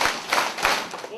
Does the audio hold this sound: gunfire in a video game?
no